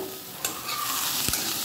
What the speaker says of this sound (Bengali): এবার পেঁয়াজটাকে কয়েক সেকেন্ড ভালো করে ফ্রাই করবো